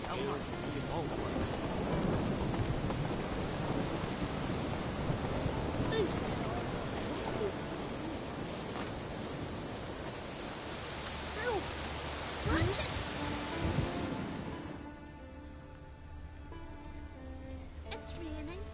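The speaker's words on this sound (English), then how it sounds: "It's raining." Steady heavy rain and rolling thunder during a storm in The Witcher 3 video game, with a loud thunder crack near the middle, before the downpour thins and quiets toward the end. Background voices are faint under the storm.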